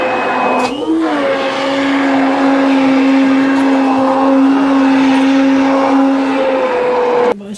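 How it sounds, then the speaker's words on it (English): A blender blitzing carrot and coriander soup made with carrots and stock cubes, a steady, loud motor whine holding one pitch for several seconds before cutting off abruptly. "So we're just blitzing the soup down."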